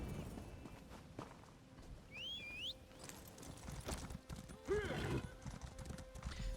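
A horse mount in Elder Scrolls Online trots with steady clip-clopping hooves, a continuous rhythmic patter mixed with other game sounds and brief whinny-like squeals.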